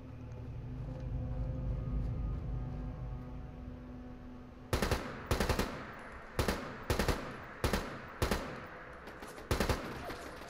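A sentry turret in Fallout 4 fires sharp bursts of automatic gunfire, several short volleys in an irregular rhythm, loud and close after a stretch of low droning ambience.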